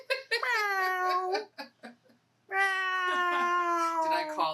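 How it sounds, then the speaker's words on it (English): A cat meows loudly and close up in a small home soap-making workspace, with two long drawn-out calls separated by a few short chirps. "Here comes the cat."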